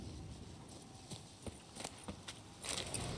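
Roach the horse running in The Witcher 3, faint rhythmic hoofbeats clip-clopping at a quick pace with scattered sharper hoof strikes and a louder burst near the end.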